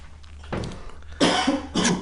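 Several harsh coughs come close and loud in a small room: a short one first, then a longer hacking burst and a final cough, with no talk.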